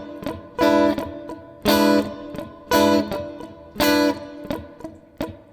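An electric guitar plays funk 7th chords in a muted strumming pattern, with percussive scratchy muted strums and four bright ringing chord hits spaced about a second apart, close and clear.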